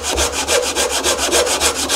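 A Japanese hand saw cuts into wood for a half-lap joint, guided by a jig, in steady back-and-forth strokes, about eight even rasping passes close by, with no talking.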